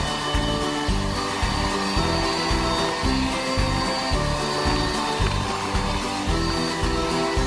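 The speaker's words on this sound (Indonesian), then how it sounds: "Kita mixnya dengan kecepatan tinggi" Electric hand mixer beating steamed brownie batter made with four eggs at high speed, giving a loud, steady motor whir with a rhythmic pulsing as the beaters churn, heard without talk.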